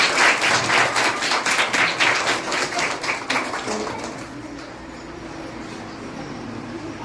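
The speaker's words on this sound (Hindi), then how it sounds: "जोरदार ताली।" An audience at a school retirement ceremony applauds with a burst of many hands clapping that thins out and fades to a quiet room murmur.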